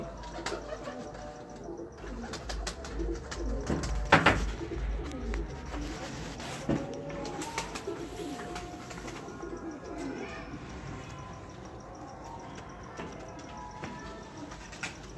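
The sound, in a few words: pigeons cooing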